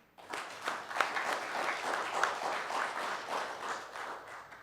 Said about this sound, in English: we need to give them another round of applause